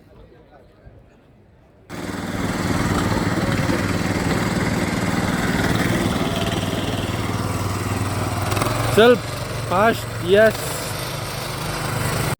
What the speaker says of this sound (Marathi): आता मशीन लावली तर पाणी भरण्यासाठी